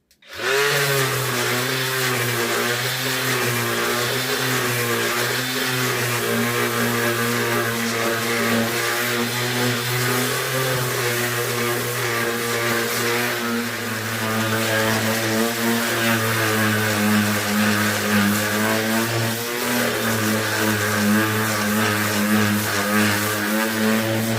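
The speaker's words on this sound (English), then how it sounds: "So I'll show you a bit of sanding." A power sander with 120 grit runs loud and close on an elm and resin coat rack, a sustained droning whine that wavers slightly in pitch as it moves across the surface.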